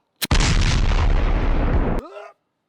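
A single loud gunshot firing a homemade JB Weld bullet, a sharp close blast with a rough, sustained roar that cuts off suddenly, followed by a short yelp.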